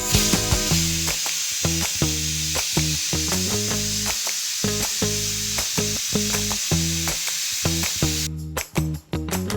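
Vegetables for pav bhaji cook with water in a pot, giving a close, steady hiss and bubble. Quick metallic clinks and scrapes of stirring repeat throughout, with no one talking.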